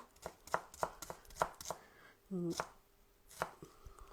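A knife finely chops onion on a board for cucumber kimchi, striking in quick, irregular close taps with a brief tonal scrape midway.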